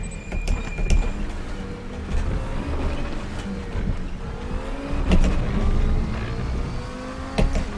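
A race car in the RaceRoom Racing Experience sim drives at speed with a continuous engine drone that rises and falls through gear changes. Sharp clicks and bursts of revving sit over the steady roar.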